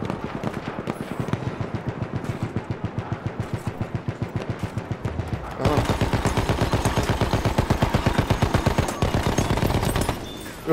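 Rapid automatic gunfire rattles in the Battlefield 1 video game, sustained fast bursts with a brief lull before a second, louder and denser stretch of continuous shots.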